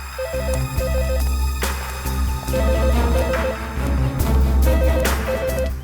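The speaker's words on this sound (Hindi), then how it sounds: "घंटी की आवाज तो यहीं से आ रही है।" A public call office phone rings in repeated bursts of an electronic ringtone, steady and fairly loud over a low background hum.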